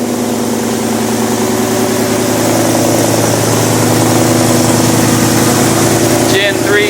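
Coyote 5.0 V8 swapped into a fox-body Ford Mustang, breathing through a MagnaFlow exhaust, idles with a steady, deep, even rumble heard up close throughout.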